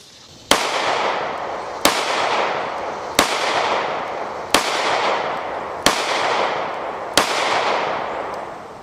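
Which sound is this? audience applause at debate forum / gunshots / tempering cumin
gunshots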